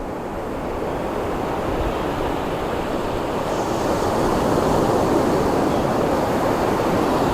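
Ocean surf at Myrtle Beach, South Carolina rolls in as a steady, full wash of breaking waves with wind noise on the microphone, continuous and fairly close, with no voices.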